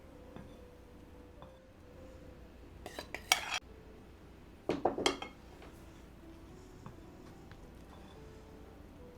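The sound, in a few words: mixing cherry pie batter in a bowl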